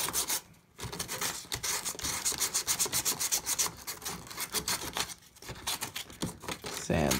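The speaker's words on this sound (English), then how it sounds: "Now I'm gonna get some 80 grit sandpaper here, and we just gotta sand wherever you want your fiberglass to attach to" Hand sanding with 80 grit sandpaper on a 2011 Jeep Compass door panel, preparing it for fiberglass: rapid, rhythmic scratchy back-and-forth strokes, close and fairly loud, with brief pauses between bursts.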